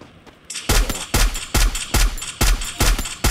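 Gunfire from the mobile battle royale game Free Fire rips out in loud, close, regular bursts, about two per second, following a quieter opening.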